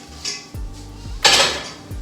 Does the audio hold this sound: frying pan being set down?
yes